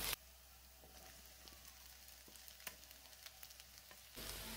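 Potatoes sizzle faintly in oil with browned onions in a pan over a low flame, a soft steady fry with scattered small crackles and pops, heard alone.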